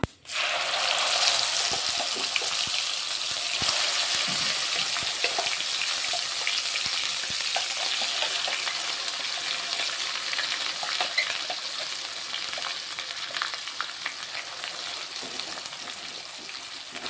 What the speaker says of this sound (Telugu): ఇది కొంచెం ఆయిల్లో ఫ్రై అవ్వాలి పేస్ట్ అంతా.